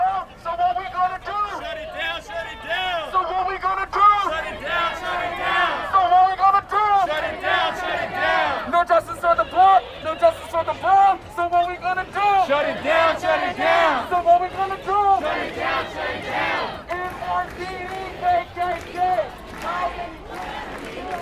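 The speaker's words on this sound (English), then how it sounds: "Spirited crowd." A large protest crowd in Washington Square Park chants in loud, rhythmic unison, the repeated call rising and falling for a long stretch, with voices shouting over the mass of sound.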